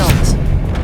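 An Expelliarmus spell cast in the Hogwarts Legacy video game lands as a short, loud, booming blast with a rumbling low body and brief bright crackles, lasting under a second.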